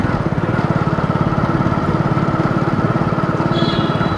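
A motorbike engine runs steadily while riding through Rajendra Nagar, Bareilly at night, a loud close rhythmic putter that holds an even pulse throughout.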